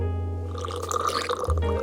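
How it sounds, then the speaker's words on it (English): Whiskey poured through a small wine aerator, a brief close trickle and gurgle of liquid running over a steady low background hum, with a short shift near the end as the flow changes. "I just pour it through this little aerator"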